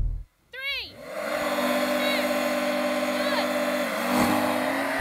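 Several Porsches, including a 911 Dakar, Taycan, 911 GTS, Macan and Cayenne, launch off the line in an off-road drag race, their engines swelling into a loud sustained roar right after a brief spoken countdown.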